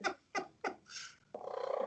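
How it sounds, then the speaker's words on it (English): A cat gives three short, separate meows at a steady pace, then a longer, rough, drawn-out cry that ends in a pulsing, purr-like sound, heard close and with no talk. "It's a cat."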